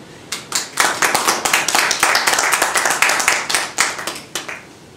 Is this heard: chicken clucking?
no